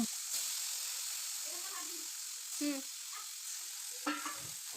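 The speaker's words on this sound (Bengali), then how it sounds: "চিংড়ি মাছগুলো ভেজে নেব" Salted, turmeric-coated prawns frying in hot oil in a kadai, a steady hissing sizzle close by with occasional soft clinks and brief voice-like sounds over it.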